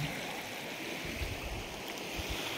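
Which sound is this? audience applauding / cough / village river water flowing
village river water flowing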